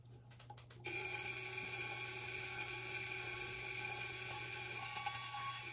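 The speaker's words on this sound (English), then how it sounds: "Now we can change gear as well as start and stop the motor." A Lego gearbox driven by a small motor under micro:bit control starts up after a few clicks and runs with a steady whirring, ratcheting drone of gears meshing, close and continuous.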